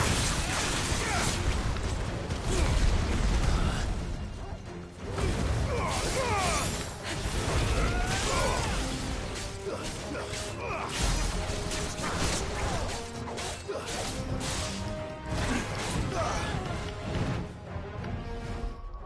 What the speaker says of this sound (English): level 1 Mega Flare, and then Gouge to get a takedown